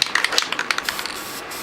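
Rapid short hissing bursts of spray paint onto a wooden sign board, close and fairly loud, sputtering in quick irregular pulses before easing into a soft continuous hiss.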